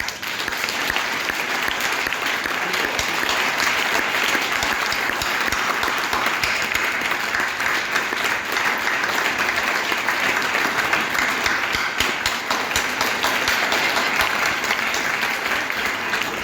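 Conference attendees at an international technology entrepreneurship fair give a long, steady round of applause, dense continuous clapping at full volume with no pauses.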